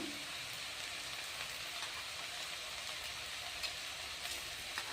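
Urad dal and chana dal fry in oil for onion-garlic chitranna, a quiet, steady soft sizzle with small scattered pops and crackles that carries on without a break.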